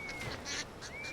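Ducks quack at a pond in the video game Skyrim, a few short, faint nasal calls spaced irregularly over a quiet outdoor ambience with a thin steady tone.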